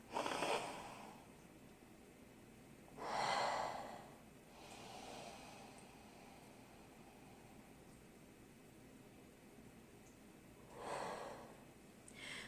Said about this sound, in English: take some deep breaths in through both your nose and your mouth